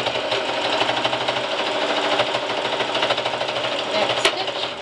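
A sewing machine back-stitches through a thick prefold cloth diaper, its rapid, steady needle chatter close and continuous, with one sharp click near the end.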